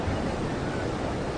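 Ocean surf rolls in a steady broadband wash at a surfing competition in North Nias, with wind noise blending in, a brief moderate stretch of waves alone without talk.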